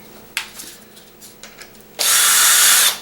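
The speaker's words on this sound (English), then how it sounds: "then you take your drill, your nut driver, kind of drive it through your pad," Power drill fitted with a nut driver sinks a self-tapping screw through a bareback riggin pad, one loud sustained whine of about a second after a few faint knocks and handling sounds.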